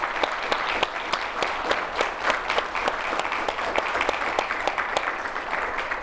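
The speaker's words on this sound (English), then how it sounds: "let's give our guest Dean Ferguson a round of applause" A live studio audience claps for a guest at the close of a show, a moderately sized crowd producing sharp, distinct claps over a steady bed of applause, sustained evenly from start to finish.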